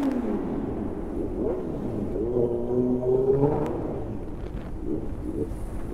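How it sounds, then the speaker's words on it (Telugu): A motorbike rides through a short tunnel in Hyderabad traffic, with a steady rumbling roar that swells and echoes as the engine note rises, and passing vehicle noise throughout. "ఒకసారి వినండి ఆ సౌండ్ టన్నల్ ఎట్లా వస్తుందో."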